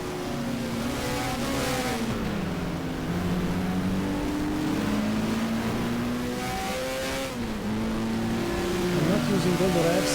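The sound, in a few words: Alfa Romeo race car engine revving, video game GTR2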